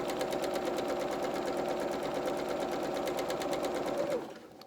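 A domestic sewing machine stitches a seam with a steady, rapid mechanical whir and rhythmic needle clatter, running close and loud for about four seconds before stopping abruptly.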